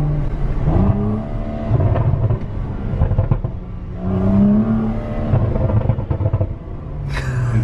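A BMW 135i engine and exhaust heard from inside while driving, rising and falling in loud, rumbling revs with surging pulls, close and dominant throughout, with no voices over it.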